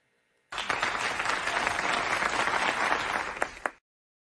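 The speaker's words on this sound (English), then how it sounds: "please give us a round of applause" A studio audience bursts into steady, dense applause for a morning show guest, lasting about three seconds before cutting off sharply, with no talk over it.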